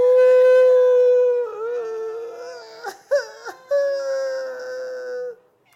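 Several voices together imitate a crying baby, producing a long sustained wailing tone that wavers, breaks into sobbing hiccups, then resumes as a drawn-out moan before fading.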